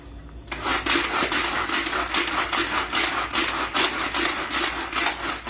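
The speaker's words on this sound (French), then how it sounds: "J'ai mis un oignon dans mon hachoir que je vais hacher." A Tupperware hand chopper cuts an onion with quick, rhythmic rasping strokes, loud and close, repeating steadily after a short pause at the start.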